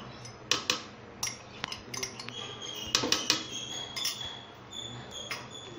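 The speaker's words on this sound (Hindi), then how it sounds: "अब दोस्तों, इसमें सबसे पहले हम घी डालेंगे।" A spoon or utensil clinks against a bowl while half a cup of ghee is added for ghevar batter, with a series of sharp, close metallic taps and scrapes at an uneven rhythm.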